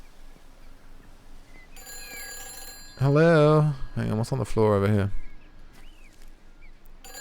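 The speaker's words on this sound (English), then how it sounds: "Oh, the phone's ringing." A telephone box rings in a village in the game Everybody's Gone to the Rapture, a steady electronic ring behind a loud voice that speaks over the middle of it.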